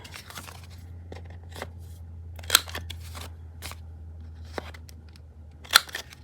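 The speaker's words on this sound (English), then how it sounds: "I think I'm going to cut those corners" Scissors snip at the corners of a paper #10 window envelope being made into a cover pocket, giving several separate close crisp cuts with short pauses between them and no talking.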